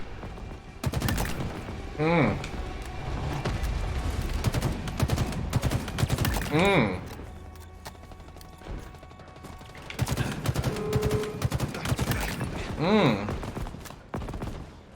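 Rapid bursts of battle rifle gunfire in Halo Infinite crack repeatedly in short volleys, with whooshing effects and busy battle noise between them.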